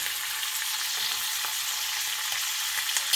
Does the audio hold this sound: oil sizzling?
yes